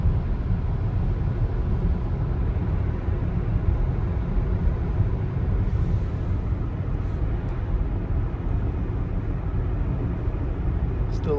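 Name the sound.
Rivian electric vehicle driving through snow flurries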